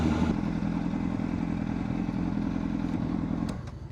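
A 600RR sport motorcycle cruises along winding back roads, holding a steady, close engine drone with wind rush that fades sharply near the end, followed by a couple of faint clicks.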